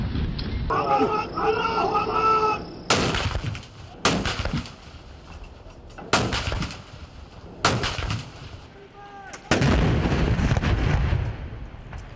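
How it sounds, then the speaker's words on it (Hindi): A ceremonial cannon gun salute fired in Pakistan on Independence Day, with 31 guns in Islamabad and 21 in the provincial capitals, sounds as a series of heavy booms spaced a second or two apart over background voices and music. "इस्लामाबाद में 31 और सूबाई दारुल हुकूमतों में 21 तोपों की सलामी से दिन का आगाज।"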